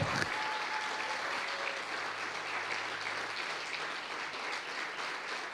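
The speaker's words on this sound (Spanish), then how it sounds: "Vamos a darle un aplauso al espíritu de fe." Steady audience applause fills a church service, a dense, continuous clapping from a congregation that holds at an even level throughout without pause.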